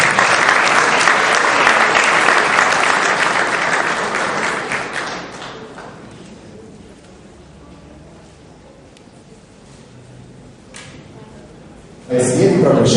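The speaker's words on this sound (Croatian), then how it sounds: "Ovdje slovno jedan aplauz" Audience at a sports awards ceremony for athletes with disabilities applauding loudly for about five seconds, fading to a quiet hall, then a voice begins near the end.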